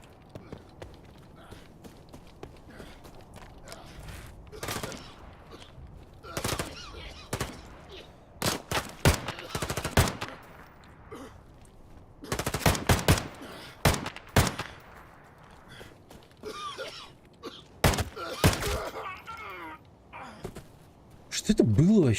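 Gunfire in a video game rings out in rapid bursts of sharp cracks and volleys, loud and close, clustered in several separate flurries, with voices talking over the action.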